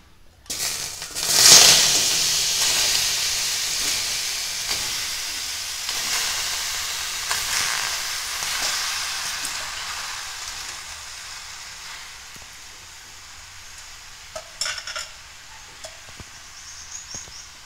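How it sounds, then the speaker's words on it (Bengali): Fresh homegrown tomatoes tipped into a hot, dry wok on a gas stove with no oil or water: a loud sizzling hiss bursts up, then slowly fades to a softer simmer with occasional scraping stirs. "এটা কড়াইয়ে একটু নেড়ে নেবো, তাহলে এই জলটা একটু শুকিয়ে যাবে"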